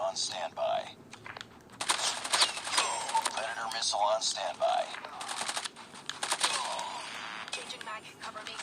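Suppressed AS VAL rifle fire in a first-person shooter game, rapid clattering bursts repeating across the clip, close and fairly loud, with a voice speaking over the shots.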